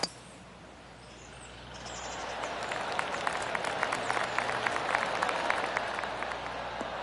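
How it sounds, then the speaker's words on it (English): Golf spectators around the 18th hole at the FedEx St. Jude Championship break into scattered clapping that swells from a quiet outdoor hush into a sustained, moderately distant patter of many hands. "I can hear the golf claps around the course"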